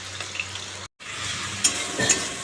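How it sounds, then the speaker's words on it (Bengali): Spice paste with salt and turmeric sizzles in a pan and is stirred with scraping strokes. The frying is close and continuous apart from a brief silent break. "একদম মশলাটা ভালো করে কষিয়ে নিচ্ছি"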